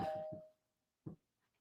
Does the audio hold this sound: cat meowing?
no